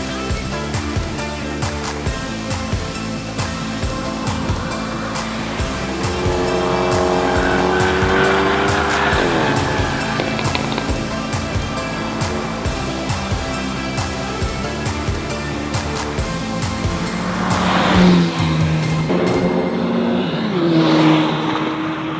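Hyundai N cars lapping Winton Motor Raceway, engines rising and falling through gear changes as they pass, with tyre squeal and several cars sounding one after another, loud and continuous.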